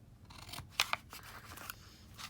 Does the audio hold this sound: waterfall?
no